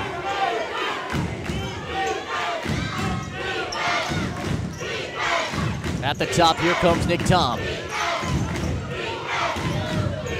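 A crowd cheers and roars in a high school gym during overtime of a boys' basketball game, loud and continuous under an excited announcer's play-by-play, with ball bounces and sneaker squeaks mixed in.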